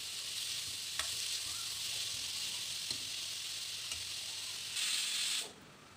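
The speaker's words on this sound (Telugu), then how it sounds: "4 ఆనియన్ ముక్కలు కూడా వేసి వేయించుకోవాలి." Small-cut onion pieces sizzle and fry in hot oil for a home curry, a steady, bright crackling hiss with occasional stirring clicks, louder for a moment near the end before cutting off.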